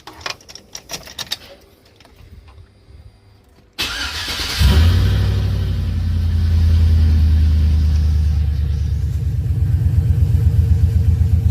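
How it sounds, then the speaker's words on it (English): A truck engine cranks and catches after a few seconds of faint clicking, then settles into a loud, steady idle with a smooth, even rumble and no ticking. "I put the engine underneath load, no noise at all. And I will show you guys proof of that now."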